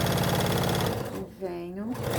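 A sewing machine whirs steadily while stitching a curve on a small fabric travel bag, then pauses briefly as someone speaks before the motor picks up again, close and fairly loud.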